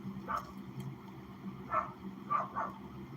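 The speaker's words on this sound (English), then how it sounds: "You hear this motherfucking dog right now?" A dog barks in the distance, giving a few faint, short yips in scattered bursts over a low background hum.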